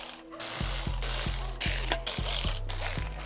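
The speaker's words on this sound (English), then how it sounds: "they're little T15s. So we're gonna unscrew those" A ratcheting screwdriver clicks in a quick steady series while backing out small T15 screws during the dismantling of a Tesla Model Y, close up with no talking.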